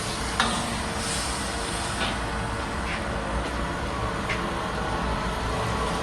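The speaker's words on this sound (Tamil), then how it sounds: "இஞ்சி பூண்டு பேஸ்ட் போடுறாங்க வதங்குறாங்க வதக்குறாங்க" Ginger garlic paste frying in a pan while Chettinad chicken liver thokku cooks, a steady broadband sizzle running throughout with a few faint scraping clicks, no talk.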